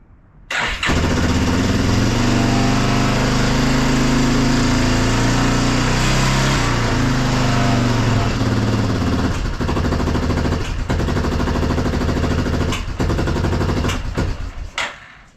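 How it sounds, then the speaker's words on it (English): A Yamaha Big Bear ATV engine runs loud and close, idling roughly with a steady rumble, then sputtering and popping as it backfires through the carburetor near the end. "So it runs, it will go out of choke, and then it's backfiring out the carb."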